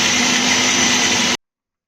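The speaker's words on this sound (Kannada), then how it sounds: "ಇದನ್ನು ಈಗ ರುಬ್ಕೊಳ್ಳೋಣ." A mixer grinder grinding a spice masala with tamarind, running as a loud, steady high-pitched whir for over a second before cutting off abruptly into silence.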